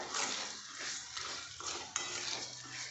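Sugar being stirred into semolina sheera in a pan, prepared as a prasad sweet, with a spoon scraping steadily around the pan in a continuous close, moderately loud rhythm and no talk.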